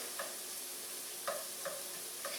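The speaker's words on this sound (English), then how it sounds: "First thing that happens when you're sauteing onions is all that connective stuff in there starts to break down" Onions sauteing in butter in a pan over moderate heat, a steady soft sizzle with a few brief stirring scrapes spaced through the clip, no talking.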